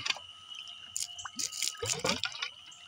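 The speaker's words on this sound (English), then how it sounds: "The pump has to pump the water through the filter." Water dripping and trickling as a pump pushes it through a carbon filter, several small drips and splashes close by over a faint steady hum.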